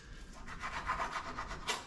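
A kitchen knife cuts through food for a chickpea breakfast dish, a run of quick scraping, rasping strokes repeated about a dozen times over two seconds, close and fairly quiet with no talking.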